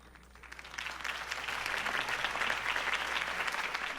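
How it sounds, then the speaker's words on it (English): Applause from a political rally crowd in Batman: The Telltale Series swells from light clapping into a steady, moderately loud ovation. "If only Mr. Wayne, my campaign's largest backer, could have heard that applause"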